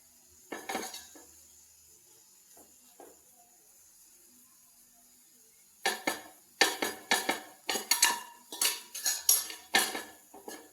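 A carrot, egg and cheese breakfast cooking in a pan, stirred with a metal utensil: a few light scrapes early, then after a quiet stretch a run of sharp, rhythmic clinks and scrapes against the pan.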